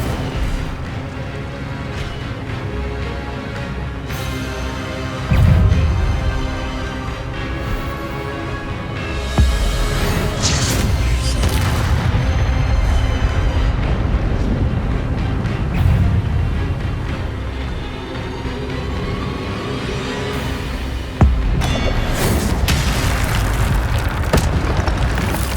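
Incendio fire spells cast in Hogwarts Legacy, loud whooshing fiery bursts and booms repeating in irregular waves over a dense, continuous game soundscape, no speech.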